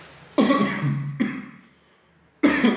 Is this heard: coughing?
yes